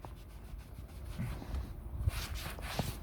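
Sanding a primed wheel of an MG TF during a wheel refurbishment, a soft steady scraping rub repeated close up, with a few brief knocks.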